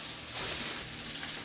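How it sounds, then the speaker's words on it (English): Steady, soft sizzling of chicken frying in hot oil, a continuous bubbling hiss with no talking. "chicken is over here frying"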